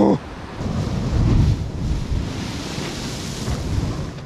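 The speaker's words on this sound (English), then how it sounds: "The waves are coming right up here." Ocean waves surge up a remote island shore as a storm moves in, a loud rumbling wash heavy with wind buffeting the microphone, swelling and easing in broad pushes.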